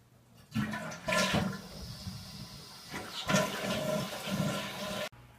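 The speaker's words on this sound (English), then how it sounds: "Was that a flush I just heard?" A toilet flushing indoors: a sudden rush of water that swells, dips and surges again, then cuts off abruptly, fairly loud and heard without talking.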